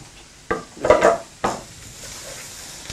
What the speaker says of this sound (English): We're going to put them in the pan.